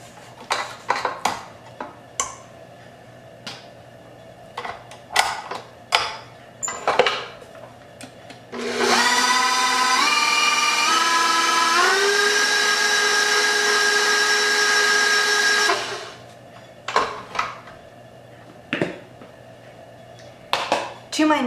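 Electric mixer blending chocolate chip cookie dough in a mixing bowl, running loud and steady for about seven seconds with rising pitch steps, framed by clatter and scraping of a spatula against the bowl.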